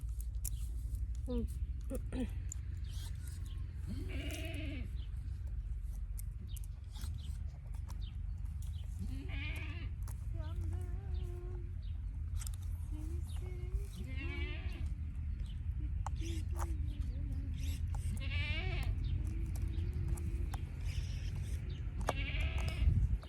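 Goats and sheep bleat repeatedly at a village farm, several cries rising over steady low background noise while people talk nearby.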